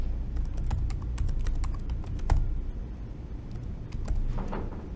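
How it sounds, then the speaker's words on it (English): Rapid clicking of a computer keyboard as code is typed, a steady run of close keystrokes with a brief pause near the middle and no talk. "let's go ahead and we'll start typing in our print"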